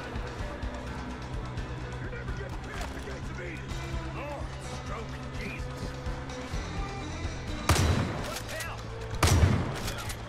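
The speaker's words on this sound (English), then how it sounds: "You use the mortar." Mortar firing in Far Cry 5, two loud deep booms near the end following a stretch of busy game noise and scattered gunfire, with talk in the background.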